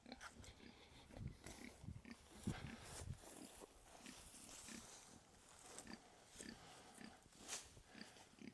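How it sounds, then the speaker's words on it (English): Pigs being moved across a farm to a wallow give off repeated short grunts and snuffles at close range, spread irregularly through the whole stretch over a soft outdoor background. "So let's get these two pigs moved across, have them check out their wallow"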